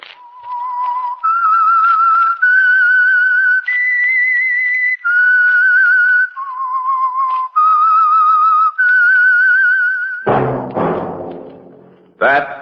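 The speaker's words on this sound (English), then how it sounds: "That whistle is your signal for the Signal Oil Program, The Whistler." A lone whistler performs the theme signal of the 1947 radio show The Whistler: a clear, loud melody of sustained notes stepping up and down, followed by a few dull thumps near the end.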